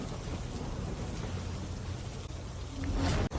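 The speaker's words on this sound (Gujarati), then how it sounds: "જિલ્લાના તમામ તાલુકામાં વરસાદ વરસી રહ્યો છે" Steady, close rain pours across Gujarat's Valsad district during a storm, with a low thunder rumble swelling near the end over the constant hiss of the downpour.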